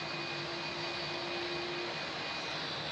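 A Qantas Airbus A330 jet airliner takes off from runway 27 at Melbourne Airport, a steady, loud broadband jet roar with a faint whine that fills the whole span and carries no talk.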